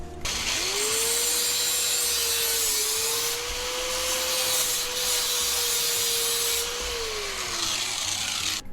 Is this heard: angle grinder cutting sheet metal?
yes